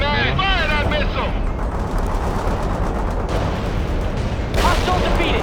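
A missile fires in the World in Conflict video game amid dense, continuous battlefield rumble of gunfire and explosions, with a fresh burst near the end and voices talking over the start.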